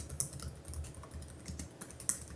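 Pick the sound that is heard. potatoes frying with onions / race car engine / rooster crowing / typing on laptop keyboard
typing on laptop keyboard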